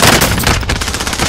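Rapid automatic gunfire from the shooter game Call of Duty Warzone, loud and close, rattling steadily with no pause.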